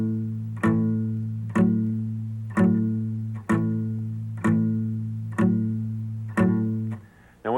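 Strummed guitar chords in a repeating progression with a rock feel, each chord sounded once at a steady rhythm with the third finger added, ringing alone.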